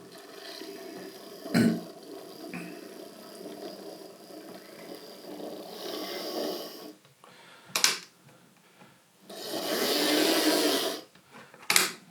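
Hornby Class 0P Terrier 0-6-0T model locomotive in BR lined black running noisily on its track, a steady mechanical whir and rumble with a few sharp clicks and louder surges as it passes near.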